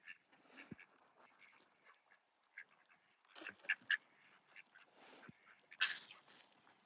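Ducks quacking outdoors, sparse scattered calls from a few birds at moderate distance, a couple of louder bursts standing out against a quiet background, no talk.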